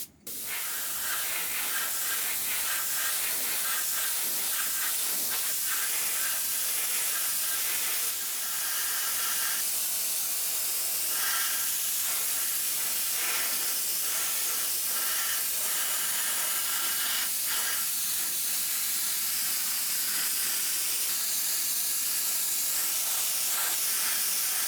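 Acrylic top coat sprayed from a can onto a scale model over dried hairspray, a steady close hiss running continuously with slight pulsing and no speech.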